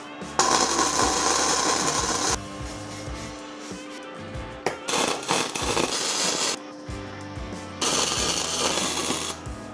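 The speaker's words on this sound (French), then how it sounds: "je vais d'abord commencer par faire quelques tests sur des chutes pour m'assurer de ne pas faire n'importe quoi sur les vraies barres" Test welds laid on scrap metal offcuts before welding the real bars for a kitchen build: loud, close crackling hiss bursts lasting a few seconds each, broken by short gaps with clanks and handling noise.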